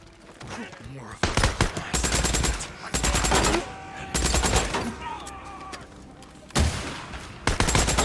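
Close automatic gunfire in Days Gone during a fight with a horde at a sawmill, loud rattling bursts broken by brief pauses, with a single shotgun-like blast later on.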